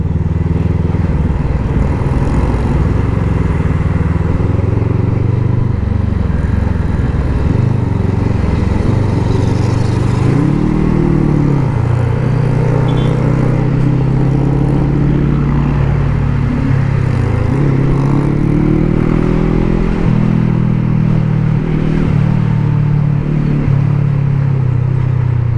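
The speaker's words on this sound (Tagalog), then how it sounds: "Sarap ng motor na to, mapapasayaw ka rin." A motorcycle engine runs close by for a long stretch, a loud low rumble whose pitch rises and falls as the throttle is blipped and revved, with no talking.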